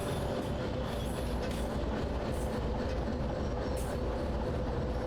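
Train from the video game Derail Valley rolling steadily on rails, a continuous loud rumble with faint clickety-clack of wheels throughout, no talking.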